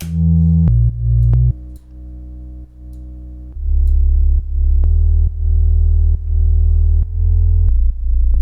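Deep, layered synth bass notes built from pure sine tones, recreating the bass of a track, changing pitch every second or so in a steady sequence, loud and clean with no voices.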